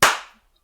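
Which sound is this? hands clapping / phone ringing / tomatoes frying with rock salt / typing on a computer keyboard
hands clapping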